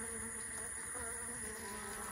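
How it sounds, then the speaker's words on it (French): Dense, continuous buzzing of many bees, steady and close, with no other sounds. "Alors, regardez les abeilles."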